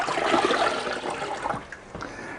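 A grout sponge used for tiling a subway-tile backsplash is rinsed in a bucket of water, giving a loud, close, continuous wash of sloshing water that tapers into a softer trickle over about two seconds.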